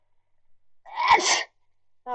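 A single sharp human sneeze bursts out close to the microphone after a brief inhale, followed by silence and the start of a voice.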